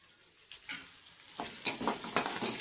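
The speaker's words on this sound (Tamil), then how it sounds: "எண்ணெய் காஞ்சதும் நம்ம கடுகு போட்டுக்கலாம்" Mustard seeds hit hot oil while cooking mudakathan keerai thuvaiyal, a crackling sizzle that builds and spits in irregular bursts as the pan is stirred, close and fairly quiet, with no talking.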